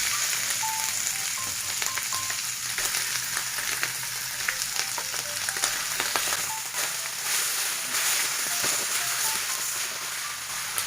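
Liver frying in a pan for a home birthday meal, a steady close sizzle and crackle with brief stirring scrapes running through, no talk over it.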